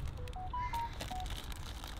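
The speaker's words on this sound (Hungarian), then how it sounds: "Jött egy SMS." A short phone text-message alert plays a quick sequence of several rising electronic beeps, clear but modest in level over a faint background hiss, with no talking.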